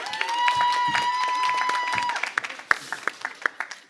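Studio audience applause on a French television game show, starting as a steady wash of clapping under a held tone and then thinning into scattered individual claps near the end.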